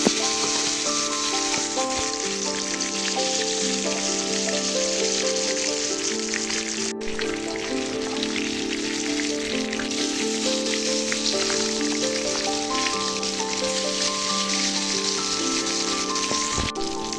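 Fish frying in a pan of hot oil in a Nepali home kitchen, a steady, dense sizzle and crackle that runs unbroken and fairly loud throughout, with no talking.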